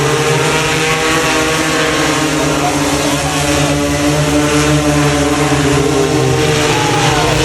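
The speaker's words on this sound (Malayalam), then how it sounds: "അത് പറന്നു, ഡ്രോൺ ഉയർന്നു." An agricultural spraying drone lifts off over a paddy field, its rotors producing a loud, steady droning buzz with a constant pitch that holds throughout.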